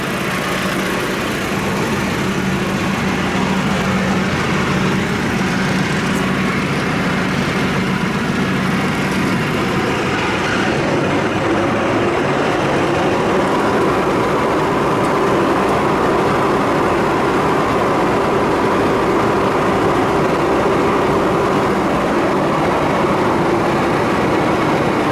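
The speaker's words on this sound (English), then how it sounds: "I'm gonna turn it on for a second, make sure it runs and everything." An 8ft rotary cutter bush hog runs off a tractor's PTO. A loud, steady mechanical drone with a heavy engine rumble continues without break throughout, with no talking.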